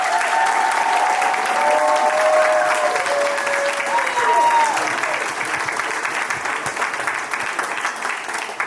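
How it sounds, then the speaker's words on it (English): Audience applause for graduating students at a college graduation ceremony, a dense, steady roar of clapping from a large crowd lasting throughout, with a voice heard faintly under the applause. "So please give them another round of applause."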